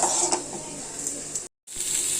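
Mustard seeds and urad dal frying in hot oil, a steady bright sizzle with scattered crackles and pops, broken by a brief silent gap before the sizzling resumes.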